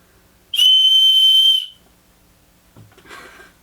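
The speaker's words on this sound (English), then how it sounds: "Not only is this a paracord bracelet, it's also a whistle" A small whistle built into a survival paracord bracelet gives a single sharp, shrill blast lasting about a second, close and loud, followed by faint handling noise.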